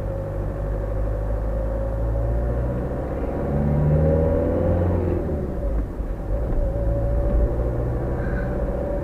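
Heard from inside, a car moves through morning traffic while steering around a bus: steady low road rumble and engine drone, swelling slightly midway as it gathers speed, with no talk over it.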